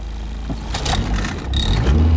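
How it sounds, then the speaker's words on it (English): Honda Integra engine idling roughly after starting on old stale gasoline, a loud steady car engine drone with some mechanical rattle, heard close up without talk. "It actually started right up on ancient gas."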